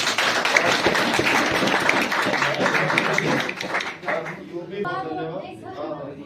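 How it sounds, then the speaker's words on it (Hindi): Loud, dense audience applause rises and holds, then thins out as a voice begins speaking over the fading claps. "चलिए जोरदार तालियां इनके लिए"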